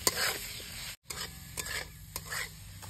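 Ground spices including Kashmiri red chili, cumin and salt are roasted and stirred in a pan for paneer bhurji, giving scraping spatula strokes over a faint steady sizzle with a brief dropout partway.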